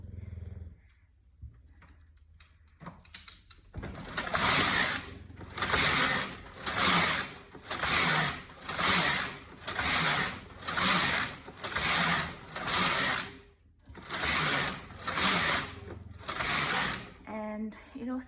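Brother KH836 knitting machine knitting tuck stitch, the carriage swept back and forth in about eleven loud rhythmic passes, each a clattering mechanical rush, with short pauses between them.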